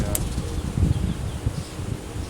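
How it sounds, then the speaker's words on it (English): Honeybees buzz in a low, wavering drone as they are shaken off hive frames during an inspection, with bursts of louder buzzing and a faint clack near the start. "I'm gonna shake all the bees off of the frames in this one"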